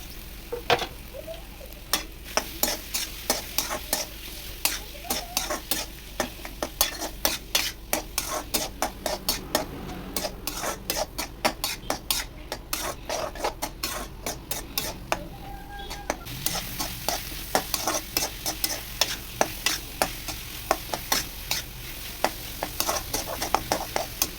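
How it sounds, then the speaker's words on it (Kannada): Banana slices frying in ghee in a pan for a Kerala banana ada, with steady sizzling and a rapid run of sharp clicking scrapes from stirring throughout, close and fairly quiet, no voices. "ಅದಕ್ಕೆ ಇವಾಗ ನಾನು ಕಟ್ ಮಾಡಿ ಇಟ್ಕೊಂಡಿರೋಂತಹ ಬಾಳೆಹಣ್ಣ ಹಾಕ್ಕೊಂಡು ಅದನ್ನೂ ಕೂಡ ಚೆನ್ನಾಗಿ ಫ್ರೈ ಮಾಡ್ಕೊಳ್ತಾ ಇದ್ದೀನಿ"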